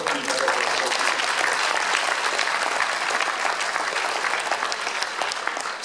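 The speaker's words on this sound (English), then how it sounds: "So a big round of applause for the Philippine Medical Association." Loud, steady applause from a large crowd at a Hawaii Medical Association event, a dense wash of clapping for the Philippine Medical Association that holds at full strength throughout.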